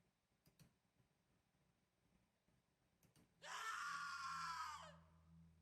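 A loud, piercing scream sounds suddenly near the end and holds for over a second before cutting off, used as a horror effect in a tabletop role-playing game session, following quiet clicks and faint murmurs.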